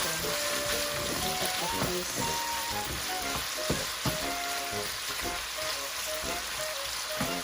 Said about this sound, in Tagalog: So let this simmer until it's cooked and turn brown.